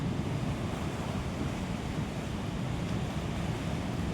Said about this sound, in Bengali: দেখতে পাচ্ছ কেমন জলের ঢেউ দিচ্ছে